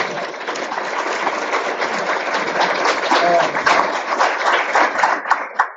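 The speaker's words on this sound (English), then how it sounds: "Round of applause for what he's done." Audience applause at a school board meeting, many hands clapping in a dense, rattling wash that grows slightly louder toward the end, with a few voices mixed in.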